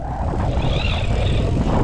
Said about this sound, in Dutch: Dat motortje moet dan als een gek aan het werk. Die komt op toeren en dat giert en dat hoor je.